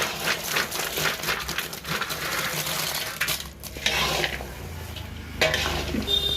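Jaggery syrup being slowly stirred in a pan while making a sweet, giving continuous scraping and bubbling with occasional utensil clinks, close and steady throughout.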